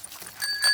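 Bicycle bell on Peppa Pig's cartoon bicycle, a couple of quick bright rings standing out over a soft background, close and fairly faint.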